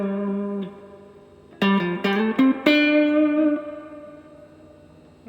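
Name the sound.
electric guitar amp with full reverb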